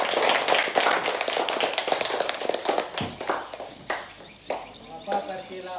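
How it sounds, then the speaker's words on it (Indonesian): A classroom group claps for a presenting team, at first a thick wash of applause, then thinning to a few scattered, separate claps, with faint voices underneath. "Beri tepuk tangan untuk kelompok 2."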